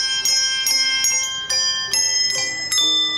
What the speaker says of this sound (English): These sweet chimes are brought to you by the St. Callistus Colonial Ringers